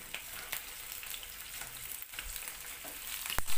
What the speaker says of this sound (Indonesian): selanjutnya digoreng mau digoreng garing atau setengah garing boleh